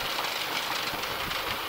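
Jet engines of a Boeing 737-900 roar in reverse thrust just after landing in Dubai, a loud, dense, continuous rushing noise heard from inside the aircraft.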